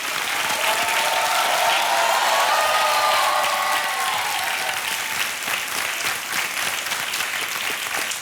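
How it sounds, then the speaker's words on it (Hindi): Loud, steady studio audience applause on the set of the quiz show Kaun Banega Crorepati, a dense sustained roar of clapping lasting throughout with no talk over it. "तालियां जोर से बज जाएं मृदुल के लिए।"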